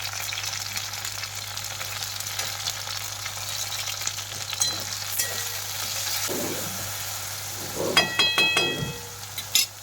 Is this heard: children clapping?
no